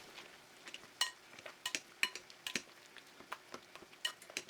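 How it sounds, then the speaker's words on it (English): Eggplant choka is mashed in a pot with a potato masher, giving a series of irregular light clinks and soft taps that are fairly quiet and close, with no talk. "Then I'm just going to use a potato masher"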